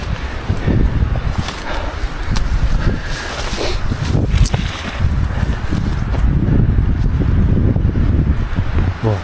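Gusting wind buffets the microphone on Mount Raung along the Sumberwringin route while hiking solo, roaring unevenly and close with a few sharper rustles and bumps, and no voices.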